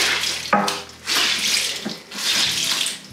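Tap water runs into a sink while clothes are hand-washed, heard as a close, steady rushing stream that pauses briefly twice with faint handling sounds and no talking.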